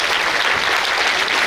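An indoor hall audience at a bhajan gathering gives dense, loud applause that continues steadily through the short stretch.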